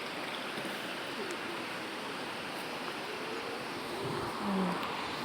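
Clear natural water flows steadily in a stream, a continuous broadband rush close by and fairly quiet, with a faint passing sound near the end.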